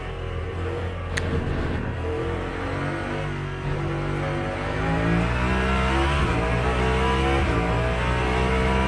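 Race car engine in Le Mans Ultimate leaving the pits on cold tyres, a loud, steady close engine drone that climbs in pitch as it accelerates, with a brief sharp tick early on and no talk.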